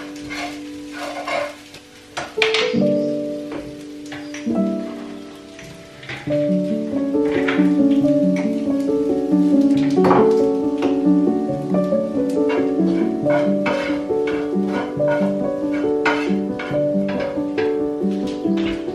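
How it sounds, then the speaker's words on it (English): Tofu scramble frying in a pan while being stirred, with scraping utensil strokes over a sizzle and a ringing metallic tone from the pan, growing louder and steadier after the first few seconds. "Gonna give that a wee stir."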